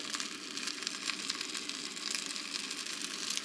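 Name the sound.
food sizzling in a pan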